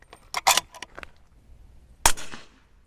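A 8.6 Blackout bolt-action rifle loaded with Trail Boss powder fires quietly: sharp, fairly soft cracks, with a few clicks early on and one distinct shot followed by a brief fading tail.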